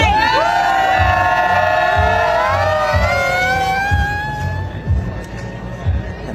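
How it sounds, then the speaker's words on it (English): A loud wailing siren sounded by tailgaters outside an arena before a hockey playoff game, its rising and falling tones layered over one another and continuing throughout above a cheering crowd, with steady thumping music underneath. "Tailgaters sending their own hurricane warning to the Florida Panthers tonight with their siren at this tailgate."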